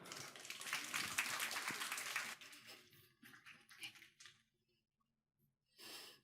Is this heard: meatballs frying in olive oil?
no